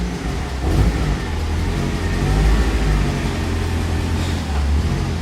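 A restored car rolls slowly around a parking lot under its own engine power for the first time in months, the mid-pitched engine droning steadily and swelling slightly as it pulls, close and loud with no talk.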